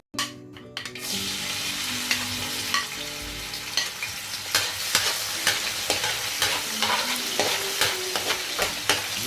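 Garlic sizzling and frying in a hot pan for a vegetable sauté, with steady crackle and occasional stirring scrapes, close and fairly loud with no talking.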